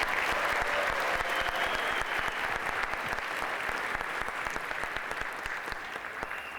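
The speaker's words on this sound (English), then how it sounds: "Give her a round of applause." An audience at an international juggling festival applauds, a dense, steady wash of clapping that stays loud for the whole stretch and eases only slightly toward the end.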